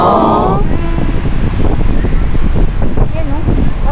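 Wind buffets the microphone on a beach in Jaffa, Tel Aviv, a loud, constant rumbling roar, with voices talking briefly at the start and near the end.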